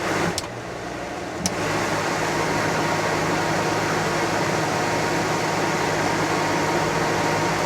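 A Coleman Mach RV rooftop air conditioner runs with a steady, loud broadband hum and whoosh, after a couple of sharp clicks at the start.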